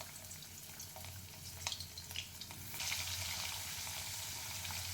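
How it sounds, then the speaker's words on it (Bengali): Pieces of rohu fish hit hot oil in a pan and set off a bright, steady sizzle that swells to a louder, denser crackle about halfway through. No one talks. "এবারে তেলটা গরম হয়ে গেছে, এবার একটা একটা করে আমরা মাছের পিসগুলো ছাড়বো।"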